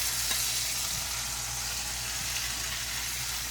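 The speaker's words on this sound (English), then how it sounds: "So we're going to go ahead and just get the mushrooms in" Mushrooms hit a hot pan for a chicken and mushroom penne, giving a steady, loud, close sizzle and frying hiss that runs evenly throughout with no voices.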